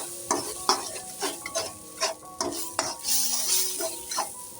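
Lemongrass, galangal and ginger sauté in oil for Padang-style green mussels, a steady sizzle broken by repeated scraping stirs and light clanks of a utensil against the pan, close and fairly loud with no talking.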